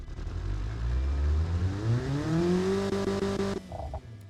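Car engine in the BeamNG driving game with a billet steel crankshaft, revving from a low rumble up to a rising high-pitched whine that holds, then cuts off sharply near the end.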